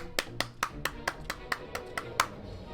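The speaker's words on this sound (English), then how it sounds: "Gotta clap." Hand claps in the video game Final Fantasy XIV, about ten crisp, evenly spaced claps in a quick steady rhythm, close and clear with no talking over them.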